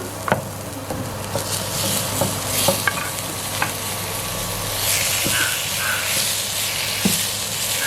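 Onions and tomatoes sautéing in a pan for a Jaffna-style gram (kadala) curry, a steady close sizzle and fry hiss with occasional clinks of a stirring spoon, no talking.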